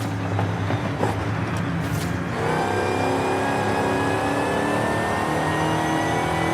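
A supercharged car engine, shown at a rods-and-customs gathering, revs up loud and close, its pitch climbing steadily and holding at a high, sustained whine. No voices are heard.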